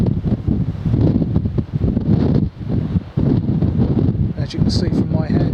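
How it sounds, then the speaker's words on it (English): Coastal wind buffets the microphone on a clifftop walk from Folkestone toward Dover, a rough, gusty rumble that swells and dips in bursts, loud and close throughout. "wind is picking up"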